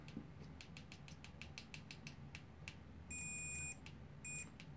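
A cheap Mastercraft multimeter sounds its continuity test as two short, thin electronic beeps, the second briefer, over faint handling noise.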